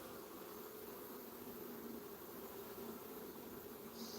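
Honeybees at an open beehive give a faint, continuous drone that holds steady throughout, with no voices.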